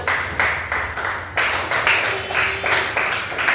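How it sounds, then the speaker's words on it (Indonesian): A classroom of students claps together in short, rhythmic bursts of hand claps, repeated several times, loud and close, with no talking over it. "Ya, bagus. Angkat tepuk tangannya."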